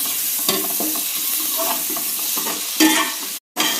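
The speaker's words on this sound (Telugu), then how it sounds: "టమాటా ముక్కలు వేసుకొని కలుపుకున్నాక" Drumsticks and tomato pieces being stirred in a sizzling curry pan, a steady hiss of frying with repeated scraping and clinks of the spoon, close and loud, with one brief silent gap near the end.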